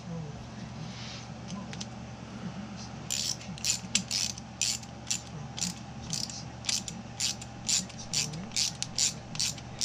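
A nut is ratcheted tight onto an RC nitro engine, a run of quick metallic clicks in steady bursts, close up, over low room hum with a voice talking at times.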